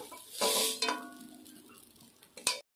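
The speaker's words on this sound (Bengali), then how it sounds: "আলুর পুরটা তৈরি হয়ে গেছে। একটা প্লেটের মধ্যে তুলে নিচ্ছি।" Cooked potato filling scraped and scooped from a pan onto a plate, with a few close metallic clinks and scrapes of a utensil against cookware, then fading quiet between strokes.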